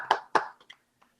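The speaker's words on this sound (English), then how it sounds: "request all the participants to please clap loudly for APS Bengdubi" A few sharp hand claps from quiz participants applauding a school team, two strong claps followed by fainter scattered ones, brief and close.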